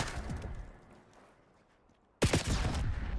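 Gunfire from Black Ops 6 ranked multiplayer: a scatter of shots early on, a quiet lull, then a loud, close burst of rapid shots that keeps going to the end.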